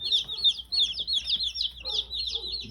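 Young Rhode Island Red and Easter Egger chicks peeping and clucking close by, a continuous flurry of high chirps overlapping one another with faint shuffling in the background.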